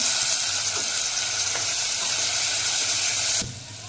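Onion with turmeric, red chili and tomato sizzles steadily in hot oil in a pan, a close continuous frying hiss that drops off sharply near the end.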